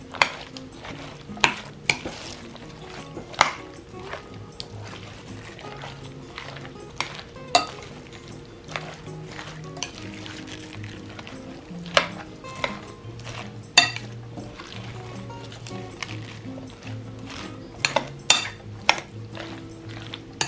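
Utensils stirring and scraping through shredded vegetables as creamy coleslaw dressing is mixed in for a vintage 1970s–80s recipe, with repeated sharp clinks against the bowl over a steady low hum, no talking.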